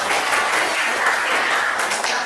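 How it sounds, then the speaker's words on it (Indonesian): Students in a Bahasa Indonesia classroom clap for a classmate after her answer, a short burst of close, brisk, even applause from a small group with no talking over it. "Tepuk tangan, Mbak."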